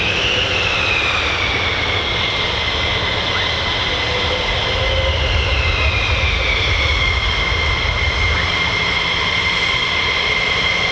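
US Air Force F-15 and F-35 fighter jets of the 48th Fighter Wing fly over RAF Lakenheath, a loud, continuous jet roar with shifting whine that swells and fades slightly over the whole stretch, with no talk.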